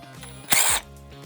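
A power tool briefly backs out a screw from the arm of a Think, Amia or Leap V2 power wheelchair, one short whirring burst of about a quarter second, close up, with quiet room sound on either side.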